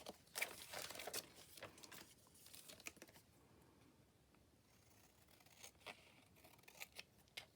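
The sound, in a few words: cutting out a sticker from a scrapbook paper sticker pack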